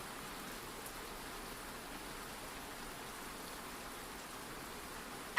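Steady rain falling, a soft, even hiss of drops that stays constant and faint throughout, with no voices or other sounds.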